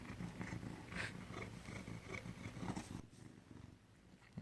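A cat riding in a car, purring or grumbling in a low, continuous growl that fades partway through, with quieter sounds after it.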